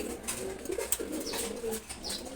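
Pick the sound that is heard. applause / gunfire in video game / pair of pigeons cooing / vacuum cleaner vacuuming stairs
pair of pigeons cooing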